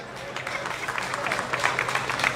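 Applause greets the director of the Caisse Desjardins as he is invited to the stage at an opening-speech event. The clapping from the crowd builds steadily from moderate to fuller over a couple of seconds, with some voices mixed in.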